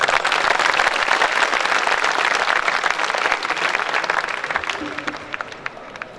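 Audience clapping at a night-time Hindi poetry gathering (kavi sammelan) held at an educational institute, a dense, steady wash of applause from a large crowd that thins slightly toward the end, with no talking over it.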